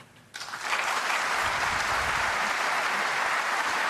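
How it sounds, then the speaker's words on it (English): Snooker crowd breaks into sustained applause for a frame ball at a European Masters semifinal, rising sharply after a brief quiet start and holding steady and dense throughout. "Applause for frame ball."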